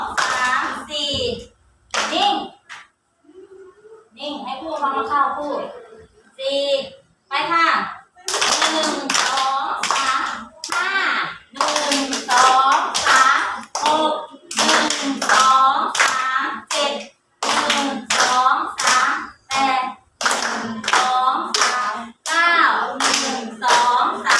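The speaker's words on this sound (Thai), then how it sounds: "ปรบมือตัวเอง" Children clap their hands in a classroom, producing a dense run of sharp, close claps in quick bursts separated by brief pauses, mixed with children's voices.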